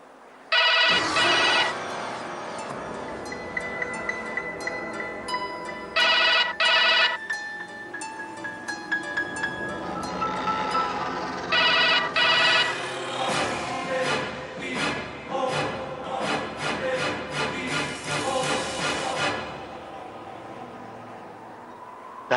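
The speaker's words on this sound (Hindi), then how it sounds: "डायल टोन तो आ रही है" An old landline telephone in a long-closed house gives out electronic tones in repeated bursts, loud and close, with long tonal stretches between the bursts and no talking.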